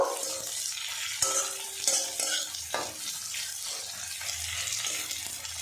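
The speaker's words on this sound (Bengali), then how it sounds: "পেঁয়াজটা নাড়াচাড়া করে ভাজা ভাজা করে নেব" Chopped onion stir-frying in a pan, with steady close sizzling and repeated scraping stirs from a utensil, plus a few sharper clinks against the pan, without any talking.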